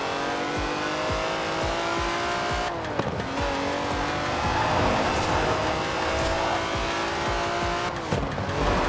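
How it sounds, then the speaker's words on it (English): A 90-year-old racing car in Forza Horizon 4 drives on steadily, its engine droning loud and rough with rising revs, two sharp gear-change drops and some tyre noise. "That's a 90-year-old racing car."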